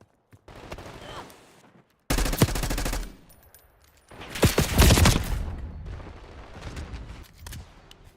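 XM4 rifle fire in Black Ops 6, heard as two loud, close, rapid automatic bursts with quieter gunfire and game noise between them.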